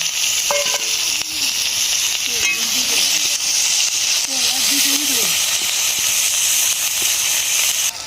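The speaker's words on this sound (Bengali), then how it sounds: "কুচানো পেঁয়াজ দিয়ে দেবো।" Chopped onion hits hot oil in a pan after fish has been fried and lifted out, making a loud, continuous hiss and sizzle. Faint voice-like murmurs sit underneath.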